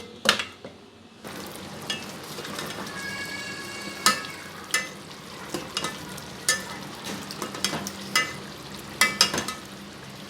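Stuffed capsicum peppers filled with potato sizzle and fry steadily in a pan, with repeated clicks and scrapes as they are stirred and turned, all fairly close and continuous and without any talk.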